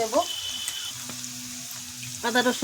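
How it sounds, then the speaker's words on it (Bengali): Onions fry until reddish-brown in a pan, giving a soft, steady sizzle over a short stretch. A brief voice is heard at the start and again near the end. "পেঁয়াজটা একটু লাল লাল করে ভেজে নেব।"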